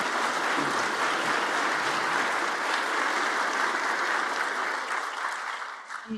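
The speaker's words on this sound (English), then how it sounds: "Another round of applause." A sustained round of audience applause for the panelists at a spring meeting, dense even clapping that holds steady throughout and fades slightly at the very end.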